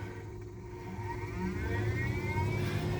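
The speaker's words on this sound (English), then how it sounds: "we'll take our fantastic fan and we'll turn this on" A Fantastic Fan roof vent fan runs on exhaust inside a Skamper truck camper with the outside door shut, a steady close whir with a low hum that rises slightly in pitch and loudness as it spins up, no talking.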